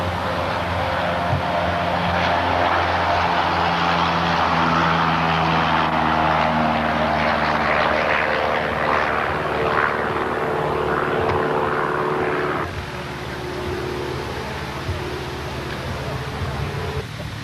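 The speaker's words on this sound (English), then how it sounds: "9871 Lima is a Grumman AA1B 1975 model." A 1975 Grumman AA1B light propeller plane's engine drones loudly and steadily nearby, then eases to a lower, quieter hum partway through.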